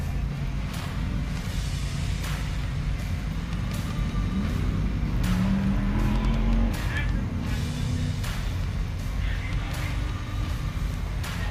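An off-road race car engine growls steadily at close range, with rough, uneven revving as it crawls slowly over rocks.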